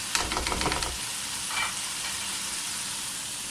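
Chops cooking in yogurt on a hot tawa, Sialkot style, give off a steady sizzle with brief stirring scrapes early on, then settle into a continuous soft frying hiss with no talking.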